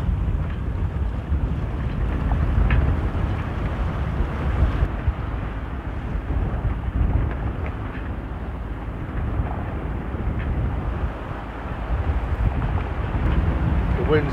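Wind buffeting a sailboat at sea off the north end of the Shetland Islands, a loud continuous low rumble of gusts against the microphone with rushing water beneath.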